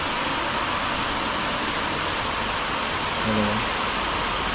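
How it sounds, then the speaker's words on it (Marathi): Monsoon rain in the Konkan falls as a dense, even wash of noise, steady and moderately loud for the whole stretch, with a faint brief tonal sound near the end. "आज पुन्हा एकदा एक चार साडेचार वाजता पावसात सुरुवात झालेली आहे तुम्ही बघू शकता"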